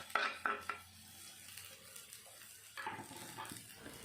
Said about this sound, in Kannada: ತೊಳೆದು ಸಣ್ಣದಾಗಿ ಕಟ್ ಮಾಡಿ ಇಟ್ಕೊಂಡಿರೋ ಸಬ್ಬಸಿಗೆ ಸೊಪ್ಪು ಹಾಕಿ ಫ್ರೈ ಮಾಡ್ಕೊಬೇಕು